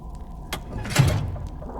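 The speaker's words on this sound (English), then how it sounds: "A grinding noise, followed by the sound of metal scraping on stone, echoes from deep within the keep" A stone door in a dungeon keep grinds open as metal scrapes on stone, heard as a low rumble with a sharp scrape about halfway in, then a longer swelling grind that fades, echoing as if from deep inside the keep.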